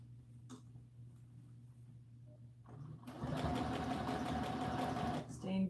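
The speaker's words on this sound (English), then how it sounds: "let's sew the bottom edge of our ribbon" A sewing machine starts up after a quiet pause and runs in a steady, close mechanical whir while stitching the bottom edge of a ribbon on an American Girl doll dress, with a voice and a throat clear heard around it.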